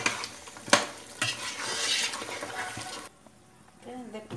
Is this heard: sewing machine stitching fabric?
no